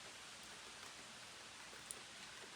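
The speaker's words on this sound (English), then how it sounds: "It's raining. Cats and dogs." Steady, soft hiss of rain falling outdoors on an outdoor cat enclosure, even and continuous, with a faint single drip standing out near the end.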